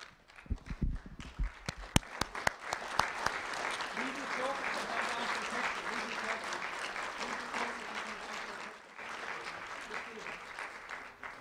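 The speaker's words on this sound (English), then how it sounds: "Let's have one final standing ovation for our students today" Sustained applause from a standing audience honoring students at a ceremony, beginning with a few scattered claps and swelling into a dense, steady ovation that fades near the end.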